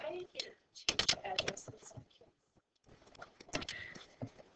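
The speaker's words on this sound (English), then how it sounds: "As you see me typing up here" Computer keyboard typing in a word-processing text tool, bursts of quick clicking keystrokes, fairly close and moderately loud, pausing briefly in the middle before resuming.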